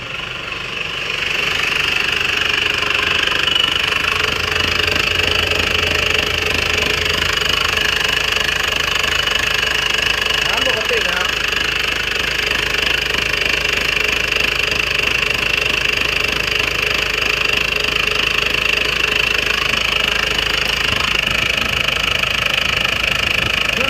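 A 1995 Isuzu TFR pickup's diesel engine idles steadily up close, a constant rattling clatter with a faint high whine, no voices.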